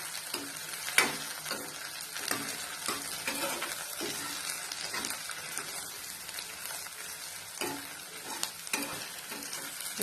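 Garlic and tamarind sautéing in a pan, a soft continuous sizzle broken by repeated scraping stir strokes from a spoon, close but fairly quiet, with no talking.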